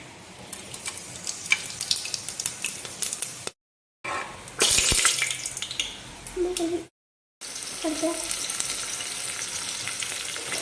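Whole spices fry in sunflower oil inside a hot pressure cooker, giving a close, bright sizzle broken by brief silent cuts, with a burst of louder crackling and a few stirring knocks.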